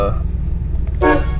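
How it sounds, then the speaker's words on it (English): A 1991 Cadillac Brougham's horn gives a short toot over a steady engine rumble, close by, with a voice speaking faintly near the start. "Horn works."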